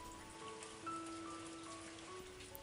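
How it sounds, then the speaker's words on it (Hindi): Steady monsoon rain falling, a soft continuous patter of drops on surfaces with faint tonal hum in the background, no voices. "की बूंदों ने जैसे ही साइमा की गालों को छुआ, वो बारिश में झूम उठी।"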